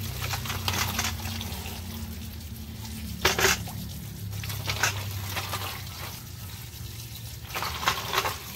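Water is poured and splashed over mutton lungs as they are rinsed clean, giving soft, uneven trickling and splashing with a few sharper bursts, close and fairly quiet, with no talking.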